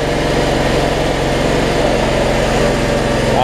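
The engine of a Cub Cadet 1320 riding mower runs steadily close by, a loud, even small-engine drone with a throbbing low rumble and no talk.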